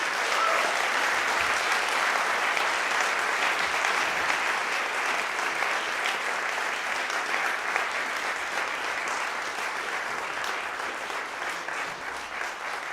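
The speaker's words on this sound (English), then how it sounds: "Can we give another round of applause?" Sustained, thick audience applause after a student percussion ensemble concert, many hands clapping evenly and loudly for over ten seconds, easing slightly toward the end with no speech on top.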